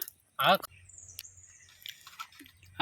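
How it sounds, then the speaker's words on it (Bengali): Someone crunches crispy papad fried in sunlight. A short burst of voice comes first, then sparse, soft crunching and chewing clicks close by. "এই তো পাপড় খাচ্ছে সান পাপড় খাচ্ছে"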